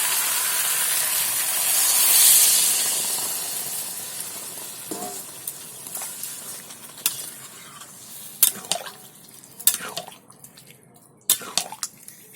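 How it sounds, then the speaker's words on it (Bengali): Water goes into spiced jackfruit curry in a hot pan, bringing a loud steamy hiss that swells then fades, followed by sharp, scattered clicks and scrapes of stirring. "এবার এর মধ্যে দিয়ে দেবো জল।"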